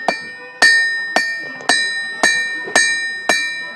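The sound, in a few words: hammering hot iron nail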